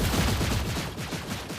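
Granger's gun in Mobile Legends fires a rapid, steady string of shots at a minion wave, loud and close, the rhythmic bursts running without pause and with no talking over them.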